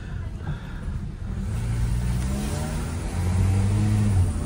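A Toyota Vios with a 2NZ engine, suffering check-engine and shift-shock faults, hums steadily on a road test, its mid-pitched engine note dropping and rising as gears change, continuous and moderately loud with no talk.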